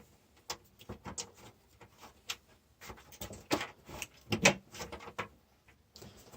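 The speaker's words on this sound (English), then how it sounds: "I can just slide the seat forward to maybe that location, and then you just put your bolt back in." A fabricated adjustable metal seat slides forward along its rail in a Zenith CH 750 aircraft, giving a run of light clicks and clunks with a louder knock near the end, close up and with no talk.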